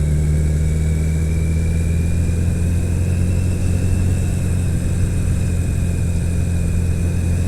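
Old street motorcycle ridden over a bumpy street, its engine a steady, loud mid-pitched drone with constant rumble and no voices.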